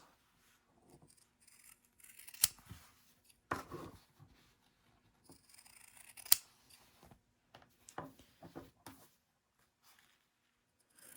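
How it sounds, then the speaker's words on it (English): Scissors clip the corners of sewn fabric a few times with sharp metallic clicks, separated by quiet pauses and soft handling rustles, close and fairly faint. "we're going to come back in our scissors, and we're going to clip our corners"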